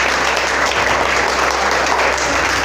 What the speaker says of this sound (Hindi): ये तालियां एक शिक्षित व्यक्ति के लिए हैं